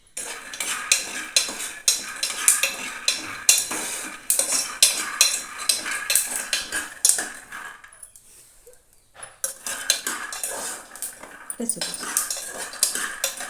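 Peanuts and cumin dry roasting in a pan without oil, rattling and clinking as they are stirred in quick repeated scrapes, with a short pause midway before the stirring resumes.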